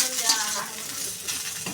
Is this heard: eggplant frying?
yes